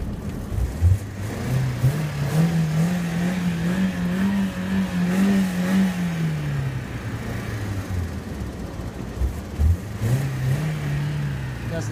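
A rebuilt engine in a BMW E46 3 Series revs up and down in long swells, a deep throaty rise and fall, pauses, then revs again, in the snow, with faint talk around it.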